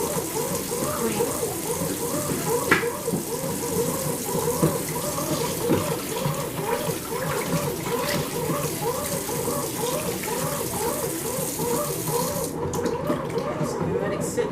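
Water runs steadily from a tap into a container, a constant splashing rush that continues without pause throughout.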